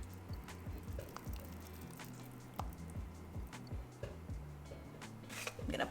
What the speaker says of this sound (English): I'm gonna pour this into my mold.